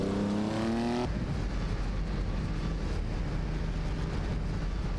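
Jaguar D-Type and Maserati 450S race cars roaring together in a racing video game, a loud continuous engine drone that shifts abruptly after a falling gear-change whine at the start.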